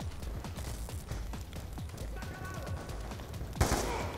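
Rapid gunfire from the video game Call of Duty: Black Ops 2 crackles steadily as repeated quick shots at moderate level, ending with a sharper blast.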